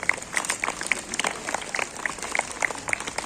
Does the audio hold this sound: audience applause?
yes